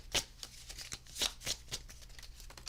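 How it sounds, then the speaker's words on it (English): Tarot cards being shuffled by hand, a quick series of soft riffling slaps and papery flutters repeating close to the listener with no talking. "I'm just shuffling for the next 12 minutes."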